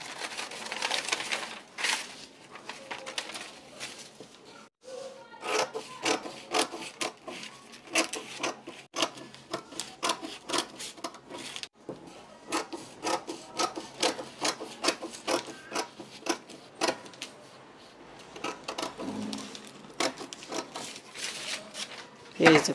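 Scissors cut through fabric for a shirt collar stand in a long series of crisp close snips and rustles, broken by short pauses, with a person talking now and then.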